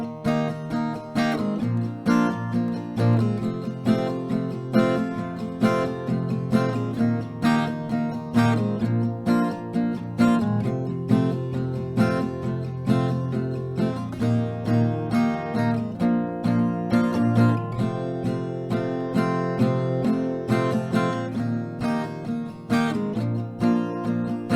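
Acoustic guitar strums the chorus of a song a little slower than the standard tempo, in a steady rhythmic pattern of full chords, loud and continuous throughout with no voices.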